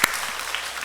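A church congregation at a Wednesday worship service applauds in a short, even wash of clapping that fills the room, starting with one sharper clap.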